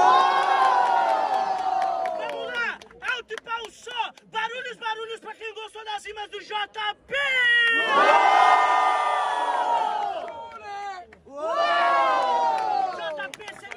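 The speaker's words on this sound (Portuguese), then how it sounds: "barulhos, barulhos pro Chulé" A crowd at a Brazilian rap battle cheers, whoops and shouts loudly in long waves, with chanting voices in between and a second roaring burst near the end, close and dense with no clear speech.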